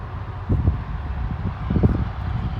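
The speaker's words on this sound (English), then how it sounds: "Wow, is it windy now." Wind gusts outdoors beside railroad tracks on a cold day, producing a low, continuous rumbling buffet with a few stronger gusts, without talk.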